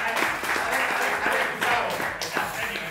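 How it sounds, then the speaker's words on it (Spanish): Audience applause breaks out at a live comedy dinner show after the host calls for it, a dense, steady wash of clapping that runs the whole clip with voices and cheers mixed in. "Un aplauso, por favor, para"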